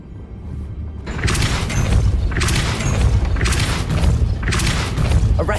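Depulso spells are cast repeatedly in the Hogwarts Legacy video game, producing four loud, booming, crashing blasts in a steady rhythm over a rumbling low background.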